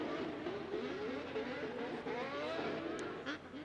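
A drift car slides sideways during Formula Drift knockout qualifying in Atlanta, its engine roaring steadily and loud with rising and falling pitch throughout, no pause in the sound.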